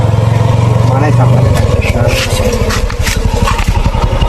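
A motorcycle engine runs close by in a rural village scene, a throaty pulsing idle that shifts into a faster rhythmic throb partway through, heard under a man's speech.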